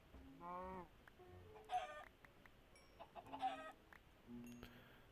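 Chickens on a farm in the video game Don't Starve cluck in short, separate bursts, a few soft calls spread across a quiet background, with no talking.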